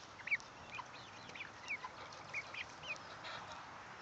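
Farm fowl, hens and roosters, making scattered short clucks and calls, fairly soft and intermittent over a quiet outdoor background.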